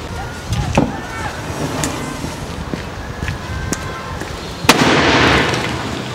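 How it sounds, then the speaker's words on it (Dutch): A firework goes off inside or next to a car, a sharp loud bang near the end followed by a rushing hiss, with small pops and knocks and faint voices earlier. "Vuurwerk is bedoeld om een harde knal te produceren"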